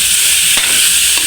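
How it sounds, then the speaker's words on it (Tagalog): Batchoy with liver and whole and ground pepper is stirred in a hot pan, giving a loud close sizzle with two quick scraping strokes of a spoon. "Lalagyan na natin ng paminta, buo at saka yung durog. Paghaluin na natin yan."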